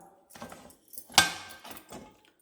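Metallic clanks and knocks of a pressure cooker lid being opened after three whistles, with one sharp click in the middle, close by and with no talking.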